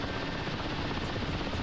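Chinook helicopter rotors in the DCS World flight simulator make a loud, close, continuous chopping thrum with a dense low-end pulse, alone without talk.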